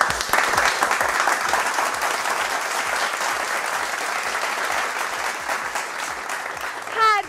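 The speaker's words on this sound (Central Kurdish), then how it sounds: "دووبارە چەپڵە" An audience claps at a quiz show in a dense, sustained round of applause that fades a little before a voice cuts in briefly at the end.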